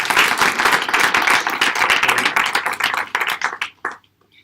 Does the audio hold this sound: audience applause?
yes